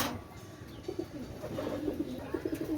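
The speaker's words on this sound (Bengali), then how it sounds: "এত সুন্দর কবুতর ভাই গ্যারান্টি সহকারে কেউ দিতে পারবে না" Teddy pigeons coo in a series of soft, repeated, low throaty calls close by, with faint background noise and no talk.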